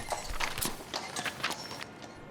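Hooves of six horses from the Royal Horse Artillery clip-clop steadily as they draw a carriage bearing a coffin past a war memorial during a solemn ceremony, a quick, fairly faint and close rhythm of hard hoofbeats on pavement.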